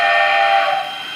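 Model train whistle on an Australian layout, one loud sustained steam-style blast that drops slightly in level toward the end, heard alone.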